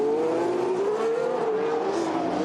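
Formula 1 race cars at the 2018 Chinese Grand Prix in Shanghai scream past, a high, sustained engine whine that bends slightly in pitch, loud and steady for a couple of seconds.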